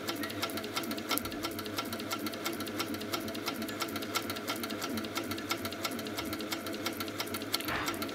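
An HQ Sweet Sixteen quilting machine stitches steadily with a rapid, even mechanical rhythm, close and continuous, with no talking over it.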